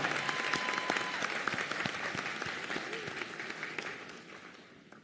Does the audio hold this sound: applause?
yes